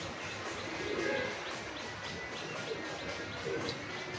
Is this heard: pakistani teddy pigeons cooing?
yes